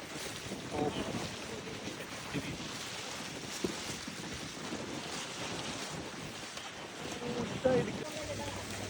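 Gusty wind buffets the microphone on an open, exposed hilltop at Moodal Hills near Peechi, with a low continuous roar and occasional stronger gusts.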